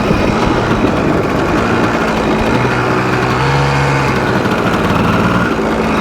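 A Yamaha Tri-Z 250 two-stroke engine cruises in sixth gear of its six-speed transmission, giving a loud, steady drone with a low rumble that holds constant throughout, close to the rider.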